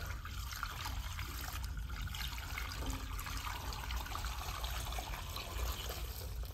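Water pours steadily into an ultrasonic parts cleaner tank with a continuous, fairly quiet rushing and trickling, no voices.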